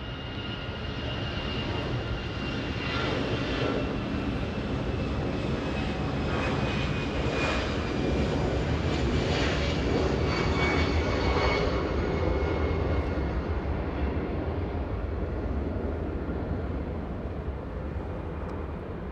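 A SkyWest airliner lines up and rolls on runway 24 left at Los Angeles International Airport. A loud, steady broadband engine roar swells slightly and then holds for the whole stretch, with no voices.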